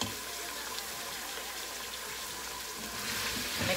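Tomato paste, minced garlic and cumin sautéing in a pan, giving a steady, moderately close sizzle and frying crackle that swells slightly toward the end, with no talking.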